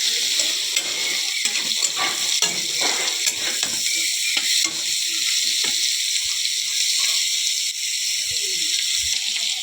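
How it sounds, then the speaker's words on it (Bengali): Jackfruit frying in a pan, a close, steady sizzle broken by repeated stirring scrapes and crackles, with no talking. "দেখো কাঁঠালটা ভাজা করে ভেজে নিতে হবে।"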